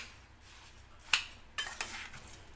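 A spoon stirs warm sabudana ladoo mixture in a pan, giving a few faint scraping clinks, with a sharp metallic tap partway through and a couple more scrapes near the end.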